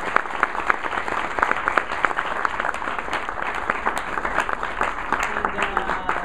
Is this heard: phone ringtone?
no